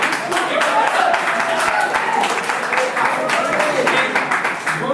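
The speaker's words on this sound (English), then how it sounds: "Round of applause." An audience gives a round of applause, continuous close clapping from a group that runs steadily throughout, with people talking over it.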